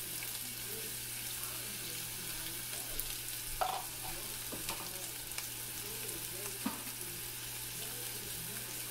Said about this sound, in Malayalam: ഞാനിതിലേക്ക് സവാള ഇട്ട് അരിഞ്ഞു വെച്ചിരിക്കുന്ന സവാള ഇട്ട് കൊടുക്കുവാണ്